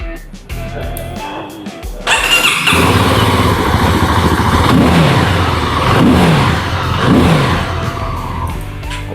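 CFMoto Light 250 Dual motorcycle engine cranks and fires up, then settles into a loud, close idle with several rising and falling revs.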